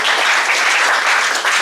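A short, loud burst of dense applause from an audience at a seminary gathering, the clapping close and continuous across the whole moment with no voices.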